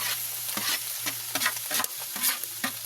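Sliced pork intestines sizzle steadily in a pan for dinuguan while a utensil scrapes and stirs in repeated strokes, with a low hum running underneath.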